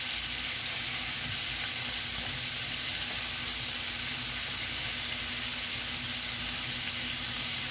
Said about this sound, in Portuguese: Vamos deixar ela fritar um pouquinho,